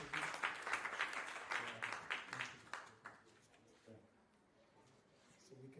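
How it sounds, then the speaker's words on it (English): Scattered clapping from an audience at a presenter's pitch during an innovation hacklab session, moderately close and fading out after a few seconds into near quiet. "We clap for him."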